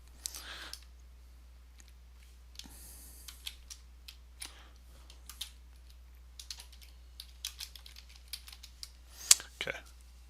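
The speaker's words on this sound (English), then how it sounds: "I can't type today." A computer keyboard clatters under irregular bursts of typing and key taps, close but soft, with scattered louder clicks near the end over a low steady hum.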